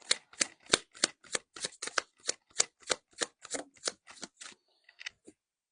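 Tarot cards are shuffled and pulled, producing a quick, even run of about fourteen crisp, close card flicks, followed by a few softer scattered snaps.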